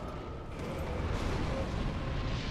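A deep, rumbling explosion in the video game Dark Souls 3 roars steadily across the whole stretch as a broad, loud blast of noise, with no voices over it.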